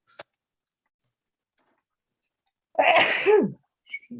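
One sharp, loud sneeze bursts out close by in a quiet room, preceded by a faint click.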